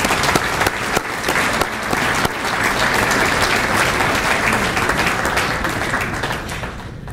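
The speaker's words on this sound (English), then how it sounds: "I ask that we all take a moment and give a long overdue and well-deserved round of applause" A large audience applauds steadily in a hall during a New York State Basketball Hall of Fame induction ceremony, the dense clapping loud and continuous for about seven seconds before thinning slightly at the end.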